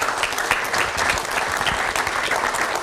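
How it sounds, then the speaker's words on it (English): An audience at a living history heritage event breaks into steady applause, a dense patter of many clapping hands heard fairly close, with no one talking over it. "how about a round of applause for my Frenchman?"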